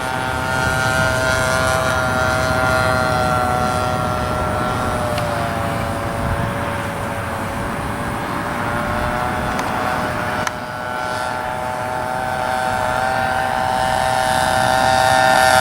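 A 60-size Reactor RC model biplane flies overhead, its glow engine giving a steady, loud, continuous buzzing drone with rich harmonics and slight pitch shifts as it passes.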